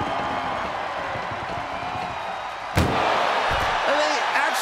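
In WWE 2K24, an ambulance door slams sharply through a noisy, roaring crowd-like background, with a couple of softer knocks afterward; a voice is faintly present.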